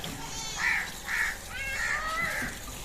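Crows cawing outside in a residential neighbourhood, several harsh calls in a loose series of three or four, moderately distant over steady background noise.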